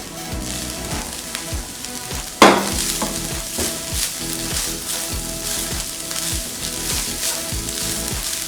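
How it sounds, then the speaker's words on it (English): Spring onions fry in a pan for beef samosa filling, a steady close sizzle crackling throughout with a sharp burst of spitting partway in as the pan heats up. "I'll let the onions cook and become soft"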